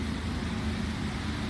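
A pressure washer's truck, unit 19404, idles with its engine running and air conditioning on, making a continuous, even low-pitched drone at moderate distance, alone and unchanging.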